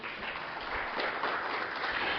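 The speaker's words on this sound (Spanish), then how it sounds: "Les pido un aplauso nuevamente para todos ellos" Audience applause at an electromobility forum panel: a steady, dense wash of clapping from a crowd, sustained evenly throughout with no voices standing out.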